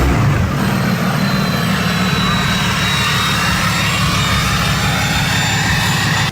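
A Ram TRX pickup truck fitted with a Cummins turbo diesel engine runs with a loud, steady low rumble and a high turbo whine layered over it, continuous and close throughout.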